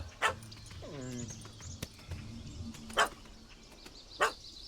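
A dog in The Witcher 3 barks in several sharp, separate yaps and gives a short whining whimper, set against a quiet game ambience with faint birdsong.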